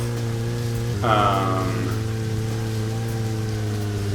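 Steady rain patters in the video game Deadly Premonition as a constant hiss under droning in-game tones, with a brief rising chime-like swell over it.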